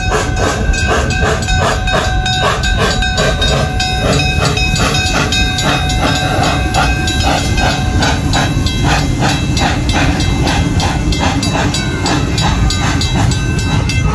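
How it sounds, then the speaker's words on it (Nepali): A zoo train runs at Henry Doorly Zoo in Omaha, Nebraska, its wheels clattering in a steady rhythm with hissing and metallic knocks. The sound is loud and close throughout, with no talking. "हेर्न सक्नुहुन्छ यहाँको रेल"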